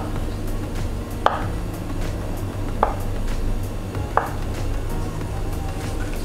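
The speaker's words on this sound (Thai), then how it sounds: "เราก็หั่นเต้าหู้ให้มันเป็นท่อนๆแบบนี้นะ" A knife chops tofu into pieces on a cutting board in a home kitchen, giving three separate crisp taps spaced about a second and a half apart over a low steady background hum.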